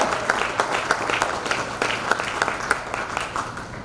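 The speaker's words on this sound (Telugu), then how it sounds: "మీ అందరూ గట్టిగా క్లాప్స్ కొట్టాలి" Moderate applause from an audience at a school batch reunion function, a steady patter of many hands clapping with a few sharper claps standing out, no voices.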